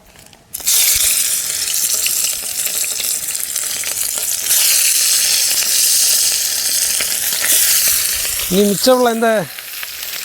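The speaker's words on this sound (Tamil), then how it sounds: "எண்ணெய் இப்போது நன்றாக சூடாகி விட்டது. நமக்கு இந்த மீனை இப்போ இதில் எடுத்து போட வேண்டியதா." Bullet tuna fish drops into hot cooking oil in a village kitchen and sizzles loudly and steadily, a bright continuous fry, with a short stirring or clattering sound near the end.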